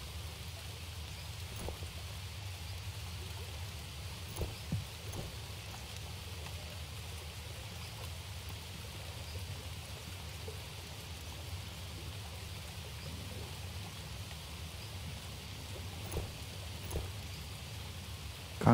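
Steady rainfall in the survival game Green Hell, a constant soft hiss of rain on foliage with a few faint drips and taps, fairly quiet and continuous, with no talking.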